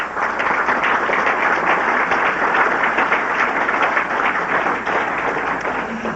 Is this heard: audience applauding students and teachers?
yes